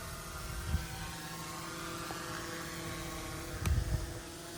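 K600PRO GPS drone circling overhead, a faint, steady buzzing hum with a couple of soft thumps nearby.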